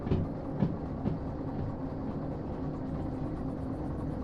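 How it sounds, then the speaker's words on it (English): A locomotive in the Derail Valley train game rumbles steadily as it slows, with a low continuous drone and a few faint clanks near the start. "slow this train on down."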